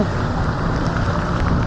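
Rain and wind rush over a bike ride along a flooded Roxas Boulevard service road in Manila, with steady broadband hiss and close microphone buffeting throughout.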